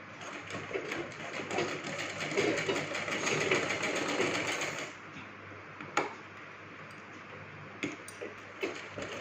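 A sewing machine double-stitching a girl's lehenga runs steadily and close for several seconds, then slows to scattered ticks and clicks of the mechanism.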